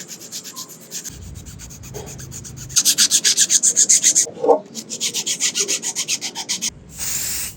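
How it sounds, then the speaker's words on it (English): Primer coat on an RC crawler body sanded by hand with 600 grit sandpaper, a close, steady rhythmic rasp of quick back-and-forth strokes, with short pauses between bursts. "I have here 600 grit and 1000 grit sandpaper. I'll start with 600 and smoothen it off with 1000."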